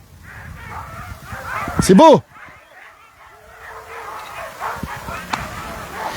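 Sled dogs at the start of a race yelp and whine in a short burst, with one loud high-pitched cry in the middle, while people talk nearby in French over outdoor background noise.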